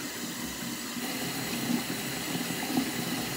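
Water runs steadily from a tap while a small stuffed doll is washed, with a continuous low splashing hiss and a few louder surges, close by and without talk.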